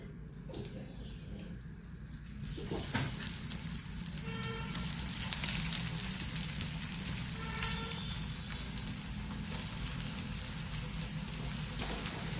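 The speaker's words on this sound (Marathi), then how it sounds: "पॅन आपला तापलेला आहे तेलही आपलं तापलेलं आहे आता याच्यात आपण हे जे कटलेट केलेलं आहेत ना एक एक घालत आहोत" Cabbage cutlets go into hot oil in a pan and sizzle steadily, a dense crackling hiss that swells once they are in and keeps going close up, with no talking.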